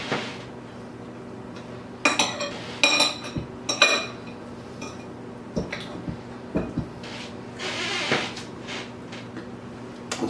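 Cutlery clinks against a plate while waffle fried chicken is eaten, giving several sharp, bright metallic clinks in irregular bursts, close by and alone over a quiet room hum.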